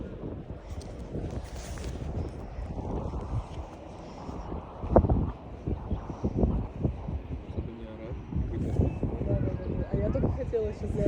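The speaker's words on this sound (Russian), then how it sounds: "Ну вот здесь уже смотрите ветер, все." Wind buffets the microphone atop a hilltop lookout in gusty rushes, running under people talking and exclaiming throughout.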